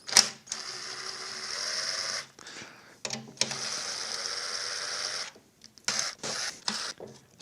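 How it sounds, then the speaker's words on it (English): An electric impact wrench backs steel bolts slowly out of an aluminum housing on a Toyota Prius inverter, in short whirring, rattling bursts separated by brief pauses, fairly close and moderately quiet. "I'm going to use an electric impact, but I'm going to not just go full throttle and rip threads out of everything."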